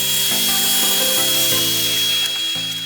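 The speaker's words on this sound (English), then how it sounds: "take the board over to your table saw. Use your sliding miter gauge to straighten up one of the edges." A table saw cuts along the edge of a board for an end grain cutting board, guided by a sliding miter gauge; a loud, steady motor whine with shifting tones continues throughout without pause.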